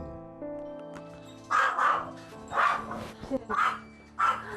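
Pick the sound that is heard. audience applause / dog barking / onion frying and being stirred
dog barking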